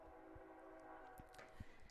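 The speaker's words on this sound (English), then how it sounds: "as the train comes through" Train rolling past a high school baseball field in North Dakota, a faint distant rumble with a sustained horn tone and a few scattered knocks, heard from afar without talk.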